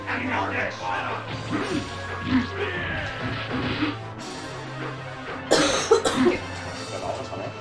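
Repeated coughing breaks out in bursts near the mic during a Dungeons & Dragons: Tower of Doom play session, mixed with game sounds, a few sharp thuds and some background voice.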